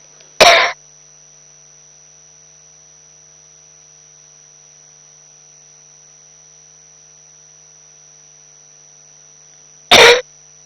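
Two short, harsh coughs about nine seconds apart, close by, with a steady electrical hum and long silence in between.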